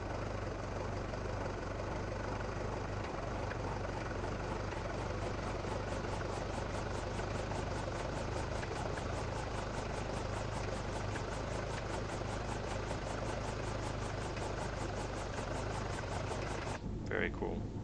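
Cabri G2 helicopter engine running with the clutch engaged in a flight sim, a steady droning whir with rapid rhythmic rotor pulsing, continuous and fairly close, ending with a brief change near the close.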